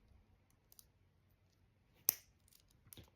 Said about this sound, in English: So I need 2 of these to click together.